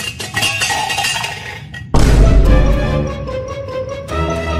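Metal pots, pans and utensils clatter and clank loudly up close, a sudden crashing burst followed by continued jangling and ringing metal, with no voices.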